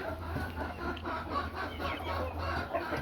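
A mixed flock of hens on a farm, crosses of Ameraucana, Chanticleer and Cochin, clucks and murmurs steadily nearby with soft overlapping calls and no talking.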